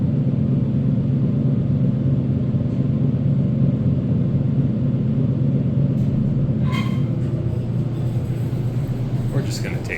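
A Kone hydraulic elevator in an underground parking deck runs with a continuous low mechanical rumble and hum, steady throughout, with a few faint clicks and knocks near the end.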